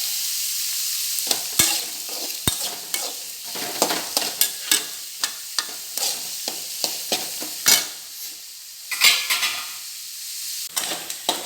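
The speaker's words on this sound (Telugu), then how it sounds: "ఈ ఎర్రగడ్డలు కూడా సగమే వేగాలి." Onions frying in a pan with curry leaves and green chillies for beetroot cutlets, steady close sizzle broken by frequent scraping stirs and a few sharp knocks of the spoon against the pan.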